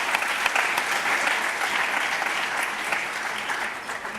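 Sustained audience applause, a dense, steady wash of clapping from a crowd at a morning meeting, continuing evenly for several seconds without talk.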